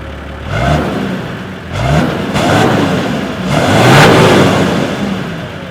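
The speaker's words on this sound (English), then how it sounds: "I'll show you guys what the car sounds like when it starts up." A car engine cranks and turns over, then settles into a loud, steady idle with a couple of throaty revs, heard up close.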